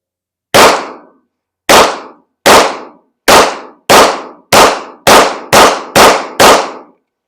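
Ten 9mm pistol shots fired outdoors, loud and close, each a sharp crack with a short decaying tail, the first spaced apart and the rest coming in a quickening steady rhythm.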